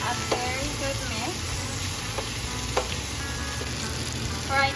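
Potatoes stirred into a sizzling frying mixture: a constant close frying hiss with occasional soft scrapes and clinks of a spoon against the pan.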